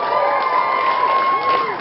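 A live audience cheers and applauds as a crowd, a sustained wash of clapping and whoops with some high shouts, steady and fairly loud throughout.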